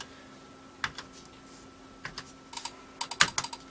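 Typing on a repaired DK-Tronics 48K Spectrum keyboard: scattered sharp key clicks, sparse at first then quicker bursts, close and clear with no voices.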